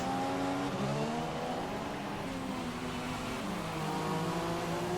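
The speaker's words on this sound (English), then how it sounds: "Oh my god, the revs on the cars." Several overlapping F1 V6 race car engines in the F1 2016 video game at the Singapore circuit hold a steady, high-pitched whine with rising and falling revs, loud and continuous with no talking.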